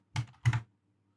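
Two quick clusters of keystrokes on a computer keyboard, close and fairly soft, separated by a short pause and then silence.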